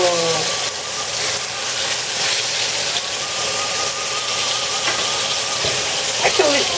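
Steady, bright sizzling of lamb chops frying in a hot pan, continuous and close, with faint clatter and a brief squeak near the end.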